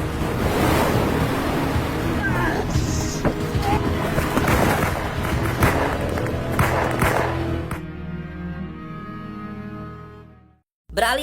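Surf washes in a continuous roar, mixed with gusty wind noise, before the sound thins out and briefly drops away near the end.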